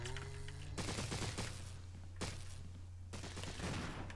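Gunfire in the video game Resident Evil Remake, bursts of rapid shots in three separate volleys over a low steady hum, fairly faint overall.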